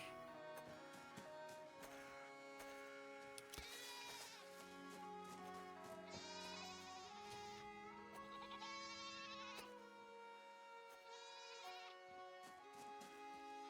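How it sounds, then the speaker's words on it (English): A goat in the video game Reka bleats in distress, a string of wavering, quavering cries in several long bursts over a steady layer of tonal game music. The bleats are fairly faint. "I like how more and more distressed that goat is getting."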